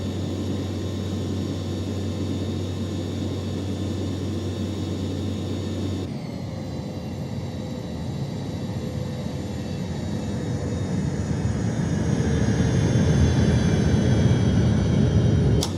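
Cessna Citation 525 jet climbing in the X-Plane 12 simulator, a steady cockpit engine drone with a broad rushing roar and faint whining tones that swells slightly louder toward the end, no talking.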